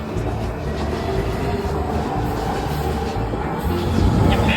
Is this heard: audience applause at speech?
no